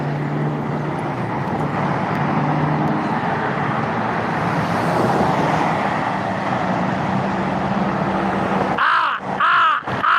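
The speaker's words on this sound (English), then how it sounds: "Look, there's one of my crow buddies headed this way." A crow caws outdoors near a road, with steady traffic noise filling the background throughout and a few sharper, rising calls breaking through near the end.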